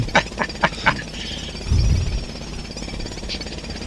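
Jackhammer from the road works simulator game: a few sharp rapid bursts of pounding, then a denser low rumble, fairly close and alone with no talking.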